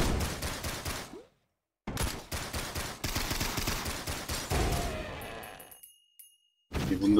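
A boss fires from range in the pixel roguelike Risk of Rain Returns, with loud clusters of rapid gunshots and impacts broken by short silent pauses, then resuming.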